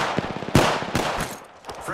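Rapid automatic gunfire from the Apex Legends shooter game, dense overlapping bursts with a few sharper shots standing out, loud and continuous across the moment with brief dips.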